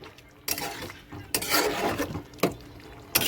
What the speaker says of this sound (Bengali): এবার জলটা দিয়ে দিচ্ছি, নেড়ে চেড়ে নেব